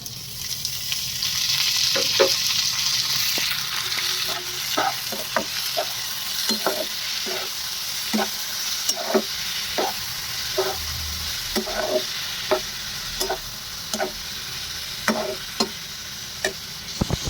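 Chopped tomatoes tipped into a pan of yellowed frying onions for a tomato dal, giving a steady sizzle with repeated stirring clicks and scrapes of a spoon against the pan, close and moderately loud, no talk.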